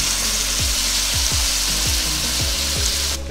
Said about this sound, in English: put that meat on, it's starting to sizzle